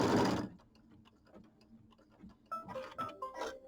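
An embroidery sewing machine stitches down a quilt block piece, a short burst of noise first, then quiet rapid ticking stitches, with louder, busier mechanical whirring and clicks returning toward the end; no talking.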